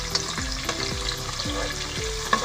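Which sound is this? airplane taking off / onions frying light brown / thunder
onions frying light brown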